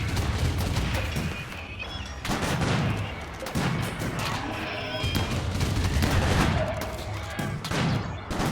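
Cannon blasts and rapid gunfire from a RimWorld battle between mechanoid Militors, with dense repeated bursts and booms filling the whole stretch at steady high loudness.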